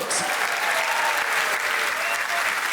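Steady, dense applause from a large stand-up comedy audience at the Fringe fills the whole stretch at an even loudness, with no voices standing out.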